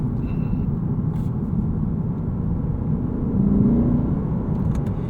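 Lexus IS 500 F Sport Performance V8 engine heard from inside the cabin while driving, a steady low rumble that swells slightly midway, with no talking.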